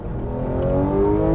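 A Porsche GT3 engine drones at around 3,000 RPM while cruising, a steady low, slightly rough hum that builds gently in loudness.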